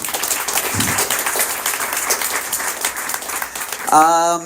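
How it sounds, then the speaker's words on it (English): Audience at a Bhakti yoga society gathering gives a round of applause, a full, sustained clapping from many people that ends as a voice begins speaking. "Okay, round of applause, everybody."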